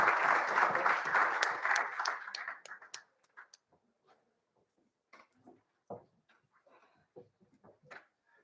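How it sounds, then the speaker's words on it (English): An event audience gives a round of applause that lasts about three seconds and then fades. Scattered knocks, shuffles and faint movement follow in a quiet room. "Let's give them a round of applause as the exec comes to the stage for a photo."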